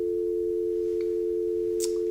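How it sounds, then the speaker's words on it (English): A continuous, steady telephone tone from a call to a disconnected number, a single flat hum held unbroken and fairly loud, with faint background noise. "The number's disconnected."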